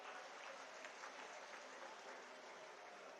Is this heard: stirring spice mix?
no